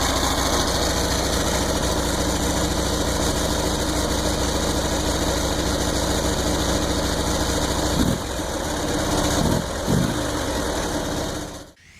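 Naked streetfighter motorcycle with a V-twin engine running steadily at a loud, close idle for most of the span, with a couple of small throttle blips near the end before it cuts off abruptly.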